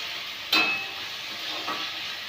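Chopped tomatoes dropped into a pan of frying onions and garlic, a soft burst of sizzle at the moment they land, then a steady quiet frying hiss with a faint second stir-scrape.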